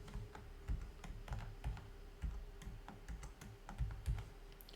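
Someone taps out an IP address on a computer keyboard, a quick irregular run of light clicking keystrokes, close but quiet, with no voices.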